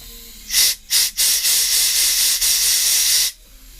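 Compressed air blasts through a lawn mower carburettor, close and loud: two short hisses and then one long sustained hiss lasting a few seconds.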